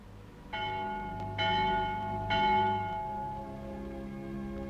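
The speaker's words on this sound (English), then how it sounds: "The Vespers bell." A church bell tolls for Vespers in three slow, resonant strikes, each leaving a long humming ring that overlaps the next, heard alone at a moderate distance.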